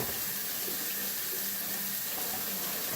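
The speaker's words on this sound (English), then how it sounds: "Rinse my knife down." Tap water runs steadily into a kitchen sink while a knife is rinsed, making a constant close splashing rush with no talk.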